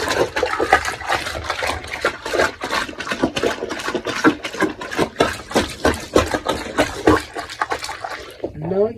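Clothes plunged by hand in a bathtub of water make a rapid, steady run of close sloshing thrusts, each stroke a short splashy surge, continuing for several seconds.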